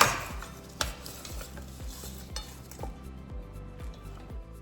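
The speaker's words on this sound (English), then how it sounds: "I'm just gonna dump this out on a plate and let it cool a bit." Food crisped in an Instant Pot Pro Crisp is tipped onto a plate, with a series of light, rhythmic clinks and scraping taps against the dish, quiet and close, no talk.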